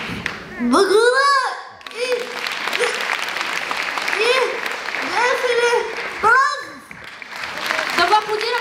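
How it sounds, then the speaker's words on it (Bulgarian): A Christmas celebration crowd keeps applauding a young performer named Alex: steady clapping runs underneath a host who speaks loudly several times, with children's voices mixed in. "Да го аплодираме силно още веднъж!"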